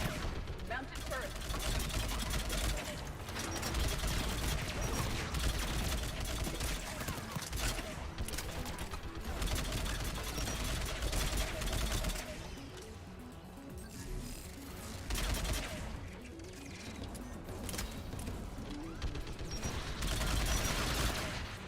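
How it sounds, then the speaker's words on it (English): Sustained mounted turret gunfire in the video game Mass Effect 3, a dense, continuous rattling barrage with brief lulls, heard under a voice talking. "Mounted turret."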